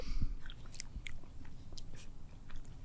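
Someone quietly eats strawberry pretzel ice cream, with soft chewing and a few crunchy bites that come close and irregular.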